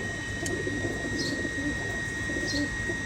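Ferozpuri pigeons in a Bangladeshi loft coo in low, steady murmurs, with a couple of faint high chirps cutting through the continuous hum of the birds.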